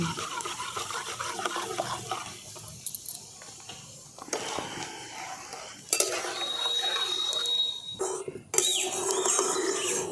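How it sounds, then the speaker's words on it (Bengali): Powdered milk being stirred into warm milk in a pot, with irregular spoon scrapes and clinks, liquid swirling and a brief metallic ring, close and moderately quiet. "ওই জন্য আমি হালকা গরম হয়েছে এইরকম সময়েই আমি এই গুঁড়ো দুধটা দিয়ে মিশিয়ে দিচ্ছি।"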